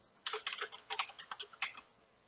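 Typing on a computer keyboard to enter a provider's name: a short burst of roughly a dozen crisp key clicks in an uneven rhythm, close and fairly quiet, with no talking.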